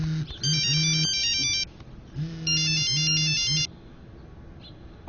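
Mobile phone ringtone plays in two bursts of bright, repeating electronic chime patterns over a low bass figure, loud and close, with a short gap between them and a quiet pause afterward.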